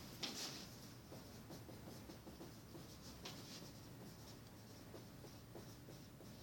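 A pen scratches steadily across paper while an exam question on sociology is written out, a faint, close scribbling with small taps and pauses and no voice.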